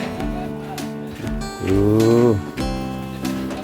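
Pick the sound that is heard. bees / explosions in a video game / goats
goats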